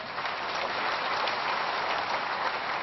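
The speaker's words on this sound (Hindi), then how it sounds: "आप एक दफा जोर से ताली बजा के" Audience at a public event announcing infrastructure projects in Dausa applauds loudly, a dense, steady wash of many hands clapping at once, continuous from start to finish with no talking over it.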